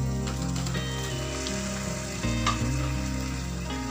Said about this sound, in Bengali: এবার মাংসটাকে পেঁয়াজের সঙ্গে 2-3 মিনিট খুব ভালোভাবে ভেজে নিচ্ছি